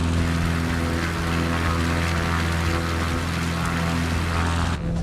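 Small aircraft engine droning steadily in Microsoft Flight Simulator 2024, a constant low buzzing hum with strong harmonic tones, loud and unbroken, cutting off briefly at the end.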